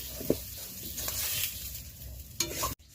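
Potatoes frying in hot oil in a home kitchen while an egg curry is prepared: a steady, close, bright sizzle with a few stirring knocks and scrapes, ending in an abrupt cutoff. No one speaks.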